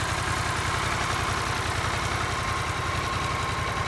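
Harley-Davidson Pan America Special motorcycle, a 150-horsepower dual overhead cam engine, idling steadily with a low, even throb that holds loud and constant throughout, alone without talk.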